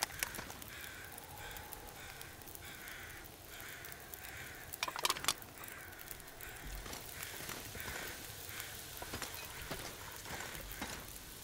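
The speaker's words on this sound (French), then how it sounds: "on a les corbeaux ici maintenant du coup" Crows caw in a snowy wilderness inside the survival video game The Long Dark, faint and distant against a steady hiss of wind or rain-like noise, with a brief louder burst midway.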